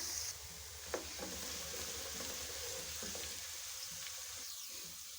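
Sliced onions frying toward golden in hot cooking oil for beef nihari, a soft continuous sizzle with a light utensil knock near the start, close and fairly quiet, no speech.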